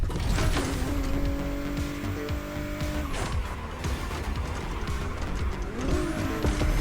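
Hypercar engine roaring in The Crew Motorfest racing game, revs rising and falling steadily with tire squeal and skidding through corners, loud and continuous with no talk.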